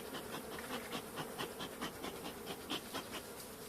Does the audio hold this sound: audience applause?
no